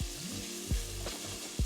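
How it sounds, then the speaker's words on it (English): A pan of olives and capers for puttanesca sizzles steadily as a splash of white wine deglazes it, a soft continuous hiss broken by a few dull knocks of utensil against pan. "deglaze the pan with a good splash of white wine and reduce this until your pan's almost dry again"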